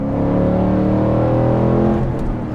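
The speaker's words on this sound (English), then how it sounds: "This one also has an aftermarket exhaust. Sounds really awesome." A Ford Mustang GT fitted with an aftermarket exhaust revs loud and close, a deep, dense engine roar that holds steady before easing off near the end, with no voices.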